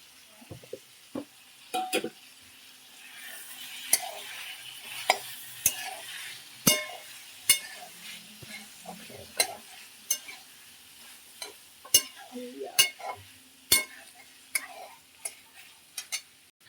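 Spatula scrapes and clacks repeatedly against a pan as vegetables (cauliflower, peas, potato) are stir-fried with turmeric, with sharp irregular knocks over a soft sizzle and no talking.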